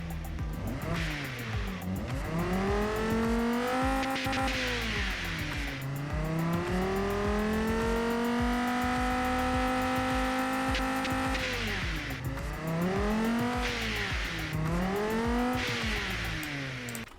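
A high-pitched Gen 3 Dodge Viper V10 engine in the game Automation revs up and down repeatedly, rising to long sustained screams and dropping back, loud and continuous.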